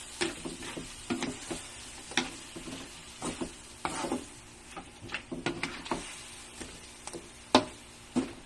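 A utensil stirs sautéed chayote in a pan with a little added water. Scraping clicks come in an irregular rhythm over a soft, continuous sizzle, close and fairly loud, with no talking.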